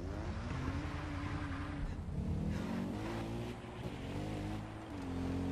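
Loud car engine from Far Cry 4 while driving, a continuous close rumble whose pitch wavers up and down with the throttle over steady road noise.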